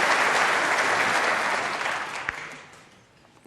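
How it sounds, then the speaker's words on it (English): Audience applause rings out at a snooker match between Ronnie O'Sullivan and Hossein Vafaei at the 2023 UK Championship after a red is potted. Loud, dense clapping holds steady, then gradually fades away near the end. "Even Hossein Vafaei clapped in his chair when that red went in"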